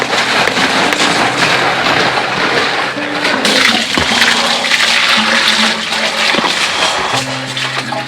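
A motorhome toilet flushes and rinses out, with rushing, splashing water running loud and steady close by for several seconds.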